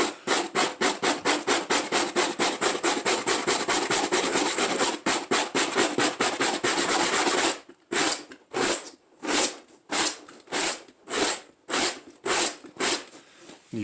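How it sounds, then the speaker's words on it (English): A stainless steel or copper wire brush scrubs the headliner of a 2006 Chevy Impala, first in fast continuous back-and-forth strokes, then in slower separate strokes, each a distinct rasping scratch, close and loud with no talk. "if you take the metal stainless steel brush, copper brush"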